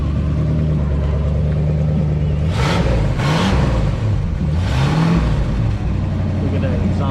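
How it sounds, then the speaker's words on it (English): A Ford Mustang idles with a deep, rumbling burble at a Ford Fest car show, then is blipped into quick revs twice, the engine snarling upward and settling back to idle each time. "Rev her up for me."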